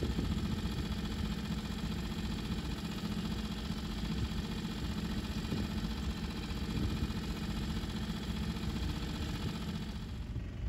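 A sailboat's engine chugs steadily at a constant mid-pitched drone while motor sailing, close and continuous, with no voices.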